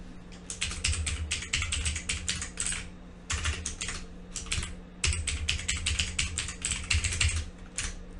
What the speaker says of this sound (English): and then your old password.